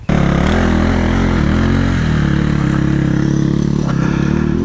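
A KTM or Beta dirt bike climbs a steep trail, its engine holding a loud, steady, buzzing drone throughout.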